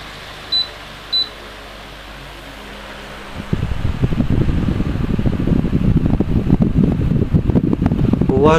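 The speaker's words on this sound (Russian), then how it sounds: "Вентилятор достаточно тихий в сравнении со многими моделями" Topsoncn Mist Fan TSP40 humidifier fan gives two short electronic beeps over a faint hiss, then its motor starts into a steady, fairly loud whooshing airflow that continues to the end, with no talking.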